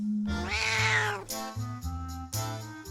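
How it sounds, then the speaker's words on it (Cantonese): A black cat lets out one long, rising and falling meow over steady low tones, followed by a few shorter, softer cat sounds. "黑貓"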